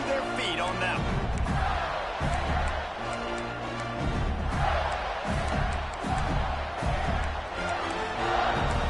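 A stadium crowd at an Alabama versus Florida football game roars steadily after a punt return, a dense wall of cheering and shouts with a commentator's voice running over it.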